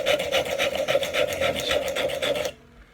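A craft knife blade stroked quickly against a sharpening surface, making a close, rapid, regular rasping that runs for about two and a half seconds and then stops abruptly.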